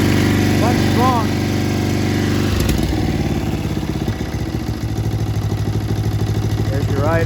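A Snapper lawn mower engine runs loudly and steadily close by, with its pitch shifting partway through before it settles back into an even idle. A voice speaks over it.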